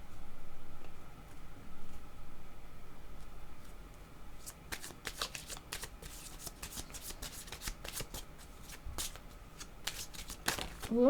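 A deck of tarot cards being shuffled before a card is drawn, a soft hushed rustle at first, then a run of quick crisp riffling snaps and flicks up close.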